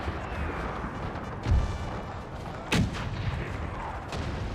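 Cannon fire booms during a battle in a video game set in the 1864 Second Schleswig War. Two heavy blasts stand out over a continuous rumble of distant gunfire.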